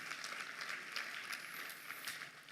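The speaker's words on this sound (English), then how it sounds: "If you want to clap, go ahead." Audience applause at a milestone celebration event during a prize announcement, a steady wash of many hands clapping throughout, fairly distant and even, with no talk over it.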